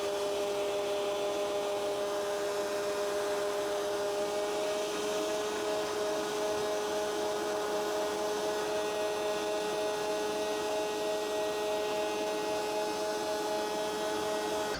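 A BISSELL ProHeat 2X Revolution Pet Pro Plus 3588F carpet cleaner runs with a loud, steady motor whine and suction roar as its hose pulls at a carpet stain, unbroken throughout.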